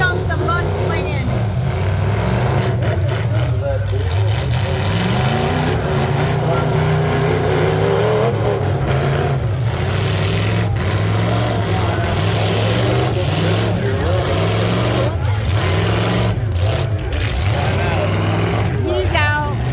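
Pickup trucks rumble and rev continuously at a muddy county fair demolition derby, a loud, unbroken engine roar with crashes and crowd noise mixed in, while people talk over it throughout.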